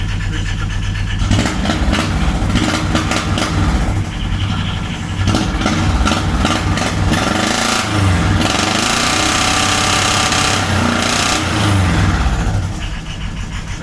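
A moped car (microcar) engine runs loudly and steadily in a shed, its exhaust muffler mounted under the floor, giving a harsh, continuous mechanical drone that dips briefly around the middle.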